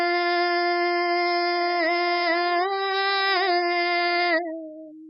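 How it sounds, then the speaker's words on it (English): A pitched-up sample treated with effects and reverse reverb sustains as a bright, buzzy harmonic drone that wavers and bends in pitch, then thins to a single lower tone fading out at the end. "shifted it up and added some effects and like some reverse reverb sort of stuff to make it sound like this"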